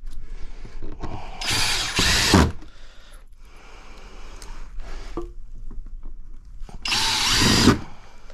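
A power drill drives screws into wooden deck boards on a garden plot platform. Loud whirring bursts alternate with quieter runs and pauses, close and clear, with no talking.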